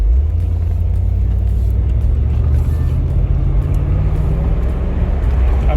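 A 1992 Mercedes-Benz 500SL R129 pulls away, its V8 engine a loud, steady low rumble heard from inside the car with continuous road and engine drone.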